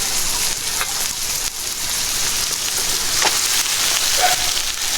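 Jute leaves frying in a pan, a dense, even hiss like rain, with soft stirring taps now and then, close and steady throughout.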